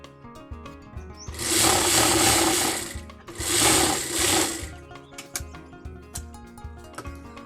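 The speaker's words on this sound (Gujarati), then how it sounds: "આવી રીતે જે પટ્ટીની કોર હોય ને કોર ઉપર સિલાઈ મારી દેવાની." Sewing machine stitching along the edge of a button placket strip in tailoring, two loud sustained runs of rapid stitching separated by a short pause, with quieter handling clicks and rustles of fabric before and after.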